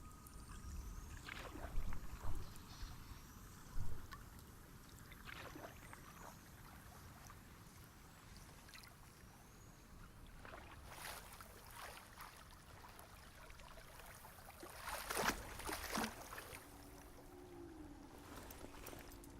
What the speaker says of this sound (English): that was a very long boat ride